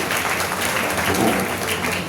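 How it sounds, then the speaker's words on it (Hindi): An audience claps for the Punjabi language at a gathering, a dense, loud and continuous burst of applause with no voices. "पंजाबी भाषा के लिए आपने बहुत कंजूस से ताली बजाए"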